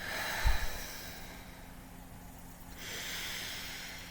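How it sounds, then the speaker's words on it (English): Slow guided deep breathing in a calm group healing session: a sharp nasal inhale near the start, a long quiet stretch, then a soft, steady airy exhale that lingers to the end, close and faint. "3 breaths."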